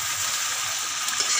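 A tempering of green chilies frying in a pan, giving a steady, close hiss of sizzling oil with faint stirring, continuous and fairly loud throughout, with no talking.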